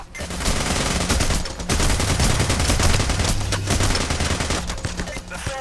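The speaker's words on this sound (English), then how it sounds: "Ah, they're shooting through." Dense, rapid gunfire crackles through a PAYDAY: The Heist bank robbery shootout, sustained bursts of automatic and repeated shots piling on each other, loud and close throughout with a brief lull near the middle.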